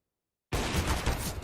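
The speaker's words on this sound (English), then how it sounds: "Maka missing the shot on the AWP" An AWP sniper rifle shot in CS:GO cracks out abruptly after silence, a single loud, close burst that rings and decays over the next second.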